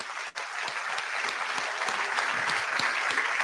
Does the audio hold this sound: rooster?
no